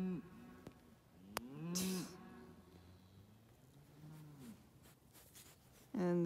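A calf on a farm moos several times in drawn-out, bending low calls, fairly close, with a sharp click and some handling noise between calls.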